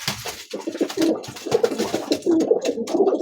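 Double-crested pigeons coo close by in soft, repeated throaty phrases, several overlapping calls in a steady rhythm.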